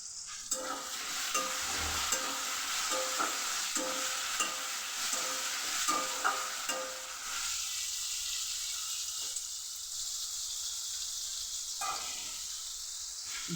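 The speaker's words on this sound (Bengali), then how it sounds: "এটা এখন ভাজা হবে" Spices with salt and garam masala sizzle in a pan on a small kitchen stove, with a steady frying hiss and a series of stirring scrapes in the first half, then continued quieter sizzling with occasional stirs.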